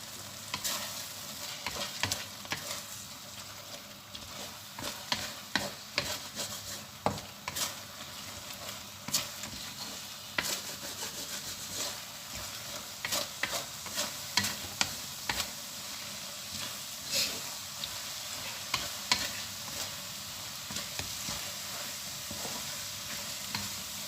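Bitter gourd stir-frying on high heat in a pan, a steady sizzle broken by repeated scraping and clacking stirring strokes, close and continuous without any talking.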